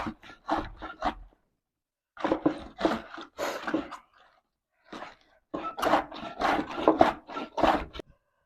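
Cabbage being grated on a hand shredder for sauerkraut: three bursts of rapid, rhythmic rasping strokes up close, separated by short pauses, with no talking.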